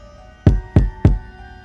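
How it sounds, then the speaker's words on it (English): Three loud, heavy knocks land on a door at an even, unhurried pace, each a deep thud that rings out briefly against a quiet, still room. "3 deafening knocks shook the door."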